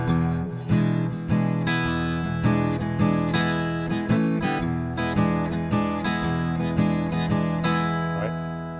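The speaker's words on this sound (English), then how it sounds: "let me show you what a shuffle groove is here." A blues shuffle groove strummed on acoustic guitar: a steady, bouncing pattern of loud, close chords and bass notes repeating evenly, played alone without talking.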